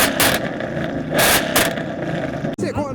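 A Honda Civic engine revs in loud bursts over a steady rumble at a modified car show, with crowd chatter in the background and a brief dropout near the end.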